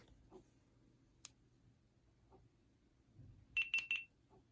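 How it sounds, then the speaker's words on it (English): Three short high electronic beeps in quick succession near the end as a GoPro Hero 12 Black action camera switches on, after a few faint clicks and handling sounds in a quiet room. "It makes a beeping sound, and there you go."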